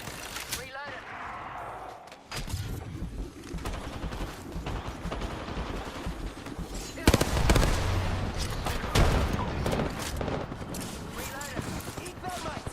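Gunfire in a shooter video game, a dense stretch of shots and booms under a continuous wash of battle noise, with a louder volley partway through and a voice talking over it.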